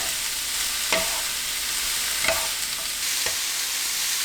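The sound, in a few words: cabbage and onion stir-frying on high heat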